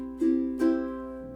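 Two quick island strums on a ukulele ring out close and clear, the chord sustaining and fading gently between and after them.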